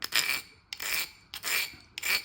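A brand-new carborundum stone rasps along the edge of a piece of stained glass in four long, gritty strokes with short pauses between, close and steady with no talking.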